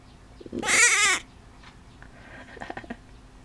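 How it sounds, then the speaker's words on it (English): A small lamb lets out one loud, wavering bleat up close, followed by quieter soft bleats and faint shuffling. "He doesn't like to baa much when he's lying down."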